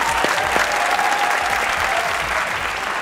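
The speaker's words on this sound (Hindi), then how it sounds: "तालियां।" Studio audience applause on a Pakistani comedy talk show, a steady, full-bodied roar of clapping from a sizable crowd that holds at an even level throughout.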